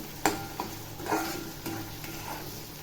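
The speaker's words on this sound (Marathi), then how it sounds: "मसाला बघा छान असा परतलेला आहे" Chili powder, Kashmiri red chili powder, turmeric and salt sizzle softly in a pan for a cluster bean curry, with a few sharp scrapes and taps of a stirring spoon over a low steady hiss.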